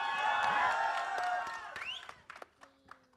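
Audience at the trailer launch of the film Notebook, with Salman Khan, breaking into applause and cheering: loud, dense clapping with whoops that fades after a second or two into scattered claps and quiet hall sounds.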